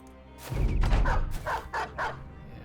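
Dogs bark in the Battle Brothers video game, a burst of loud overlapping barks followed by three distinct, evenly spaced barks, heard alone at close range.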